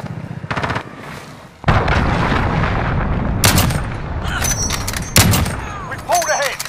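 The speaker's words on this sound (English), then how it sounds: "Allied cruise missile away." Cruise missile strikes in a Modern Warfare team deathmatch on Cheshire Park land as loud bursts of booming explosions and gunfire, with repeated sharp blasts layered over continuous rumbling battle noise.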